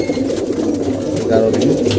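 Pigeons being fed rice paddy coo steadily, a soft, low murmuring that runs the whole time from a group of birds close by, with some of the flock reported unwell.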